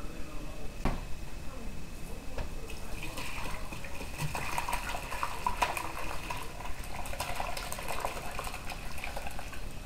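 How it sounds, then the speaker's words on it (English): Vegetable stock pours through a strainer into a pan with a steady, close splashing and gurgling of liquid that runs unbroken throughout. "What we're going to do now is strain it through a strainer into another pan"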